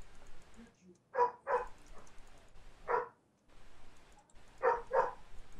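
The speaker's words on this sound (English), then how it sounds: "my dog's barking in the background" A pet dog barks in the background indoors, in short loud pairs and single barks spread over several seconds, with quieter room noise between them.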